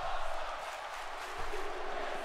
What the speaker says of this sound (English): And you can hear the crowd. The crowd is loving this.